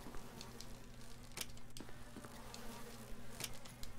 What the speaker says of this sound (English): Bees, nice.